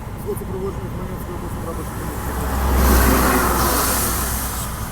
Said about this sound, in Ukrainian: Там машина просто проехала.